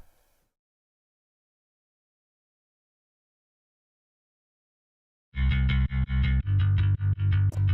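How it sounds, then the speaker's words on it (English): Electric bass guitar run through distortion and chorus effects, entering after about five seconds of near silence with loud, punchy repeated notes in a steady rhythm, played alone. "I am in the second verse using a real bass, so like an electric guitar bass. And that's what this sounds like right here."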